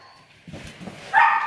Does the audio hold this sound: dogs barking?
yes